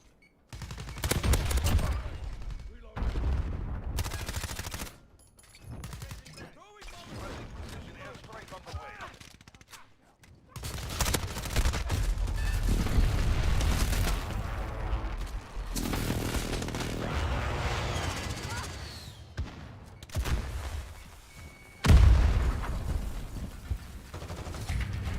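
Gunfire comes from all sides in the Call of Duty: Modern Warfare video game, with rapid bursts and single shots in dense, uneven clusters separated by brief lulls, fairly close and loud.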